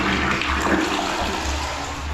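A newly installed water closet in a plaza building under construction flushes nearby, a loud rushing, gurgling swirl of water that continues steadily without pause.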